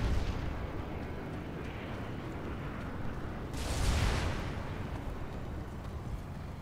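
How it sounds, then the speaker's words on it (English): A distant orbital strike explosion hits a bridge in PlanetSide 2, rising as a muffled, rumbling burst over continuous low battle noise before fading back into the din. "Got an orbital strike incoming on that bridge in 2 seconds here"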